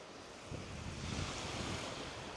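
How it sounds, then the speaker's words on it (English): Ocean waves crash and wash in on a shore, a broad steady rush of surf with a swell building after the first half second, mixed with wind noise and no voices. "Listen to the waves crashing in."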